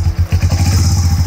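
A Harley-Davidson X440 motorcycle engine fires up close and loud, a rapid pulsing low thump that settles into a steady rhythmic idle.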